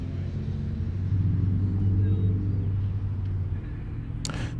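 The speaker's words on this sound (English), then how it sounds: "So if you hear a lot of vehicles" Road vehicles near Nashville International Airport give a steady low engine rumble that swells and then eases, with a brief sharp noise near the end.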